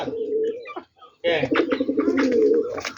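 Pigeons coo in low, rounded, repeated calls at close range, with a short pause partway through and some soft voices mixed in.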